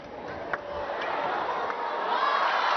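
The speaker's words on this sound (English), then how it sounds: "The crowd loving this one." A table tennis crowd at a WTT Xinxiang 2023 men's singles match cheers and roars, a broad swelling wash of voices that builds over a couple of seconds, with a brief sharp clap or shout near the start.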